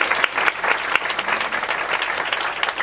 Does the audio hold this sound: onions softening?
no